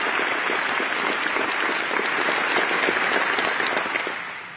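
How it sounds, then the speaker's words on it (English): Loud, dense audience applause at a Space Force change of responsibility ceremony, a sustained wash of clapping from a large crowd that fades slightly at the end. "Yeah, I think you should clap for me"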